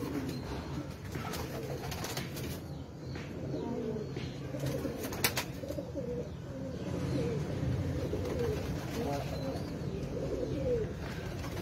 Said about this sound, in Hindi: नायाब कबूतर है भी कामयाब कबूतर हो गए हैं